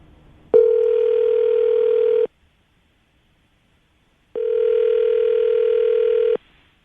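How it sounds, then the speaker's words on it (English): Two long steady telephone tones sound loud and clear, each lasting nearly two seconds with a gap of silence between, as a phone call is placed. "I'm going to call him right now, see if we can get him on the phone"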